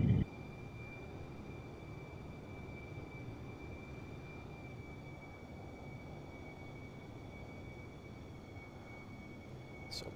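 Idling aircraft engine in the Microsoft Flight Simulator game, on approach to St Martin after leaving St Barth's, a steady low drone with a faint constant whine, even and unchanging throughout with no talking.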